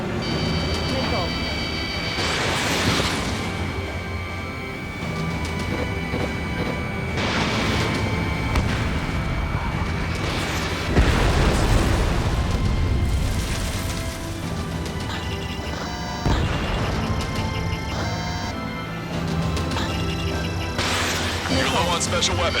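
Missile launches and explosions in the video game Ace Combat 7 roar and boom repeatedly amid constant jet engine rumble, with heavy blasts swelling every few seconds while radio voices talk over the action.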